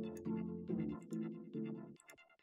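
A MiniBit synth sound built from scratch plays several sustained buzzy chiptune-like tones in a short phrase, clean and close at moderate volume, ending with a few brief blips and no voice.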